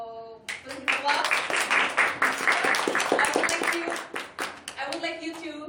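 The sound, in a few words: applause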